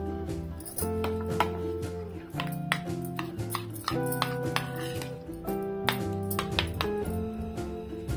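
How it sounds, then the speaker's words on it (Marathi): Cream (malai) being whisked in a bowl for homemade lassi, giving a run of quick, light metallic clinks and taps in an irregular rhythm over a steady tonal background. "मलाई थोडीशी फेटून घ्यायची।"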